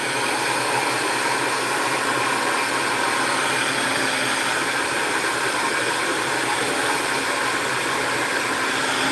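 A blow dryer runs steadily at close range for the whole stretch, a loud, unbroken broadband whoosh with no pauses and no voices over it.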